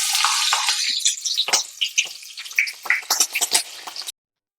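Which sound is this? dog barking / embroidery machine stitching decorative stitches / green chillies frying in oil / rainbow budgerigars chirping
green chillies frying in oil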